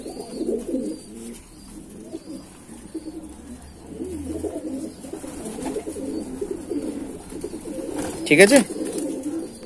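A Madrasi male pigeon coos in repeated low burbling phrases close by, joined by other pigeons, with someone talking briefly over it and a sharper flurry near the end.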